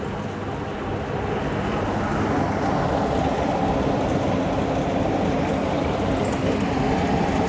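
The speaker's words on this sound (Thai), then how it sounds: "มีเสียงน้ำไหลนะครับ" Water rushes through an evaporative air-cooler fan running at its highest setting on a 48 V DC solar power setup, a steady, even hiss and rush close by that holds without pause.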